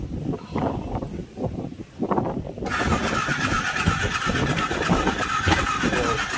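Yamaha R15 V2 motorcycle with a fouled spark plug, started up at a service centre: a few seconds of cranking and low rumble, then the engine catches and runs at a steady, loud idle close by.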